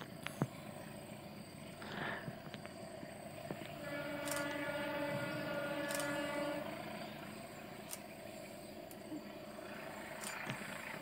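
A passenger train rolls across a railway bridge at Cilangkap, a steady rumbling roll with rhythmic wheel clatter heard from a distance, swelling in the middle and fading back toward the end, with no talking.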